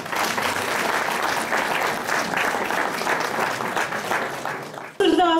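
A crowd at a church anniversary gala claps steadily and loudly for several seconds, a dense continuous wash of applause that cuts off abruptly near the end as a voice begins speaking.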